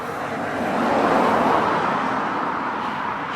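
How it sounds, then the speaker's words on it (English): Road traffic passes back and forth, a broad rushing roar that swells as a vehicle draws near at mid-moment and then fades, heard through earbuds switched to noise-cancelling mode. "I got some traffic running back and forth."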